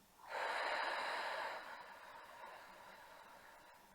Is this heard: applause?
no